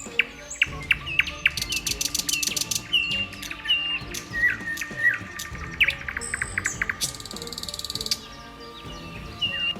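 A nightingale sings close by in a varied, rich song of rapid trills, repeated chirps and liquid whistled phrases, with bright buzzing rattles among pauses, heard alone.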